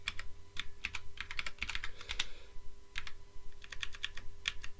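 Rapid typing on a computer keyboard, with dense bursts of crisp key clicks close up, a brief pause, then more quick keystrokes, and no speech.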